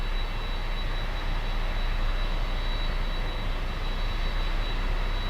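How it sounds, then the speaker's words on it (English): A Lufthansa Airbus A380 arrives on final approach at Miami Airport, producing a constant broadband jet roar with a thin steady whine over it, loud and unbroken. "We might be able to see the A380, and I think I see it."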